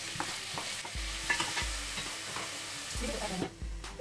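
Tomatoes frying and being stirred in a pan for mushroom biryani: steady sizzle under repeated scraping strokes of a spoon, close and moderately loud, with no talk.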